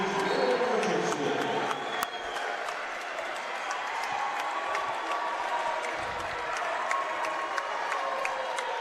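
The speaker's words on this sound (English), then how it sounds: "Listen to this Fordham crowd." A large indoor crowd at a Fordham men's basketball game against Binghamton roars and cheers steadily, a broad wash of noise with scattered shouts and faint talk mixed in.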